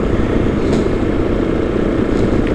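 A motorcycle engine drones steadily during a break-in ride at around 6000 rpm on streets in Cyprus, a loud, constant close engine roar with wind noise and no speech.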